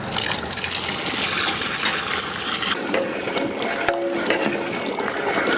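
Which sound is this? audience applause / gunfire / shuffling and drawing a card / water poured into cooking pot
water poured into cooking pot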